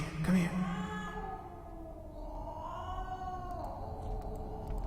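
A cat in the video game Stasis lets out a drawn-out, wavering meow with a sharp onset, fairly close and clear over a low ambient background, with no talk.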